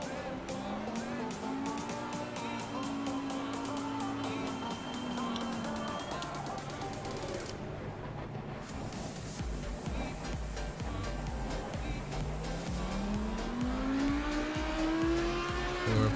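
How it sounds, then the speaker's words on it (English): An Audi race car in the Assetto Corsa Competizione racing game runs with its brakes dragged to warm them, a steady engine drone with rising and falling pitch and some tire scrub, continuous and close throughout. "I'm just going to go ahead and start dragging the brakes here"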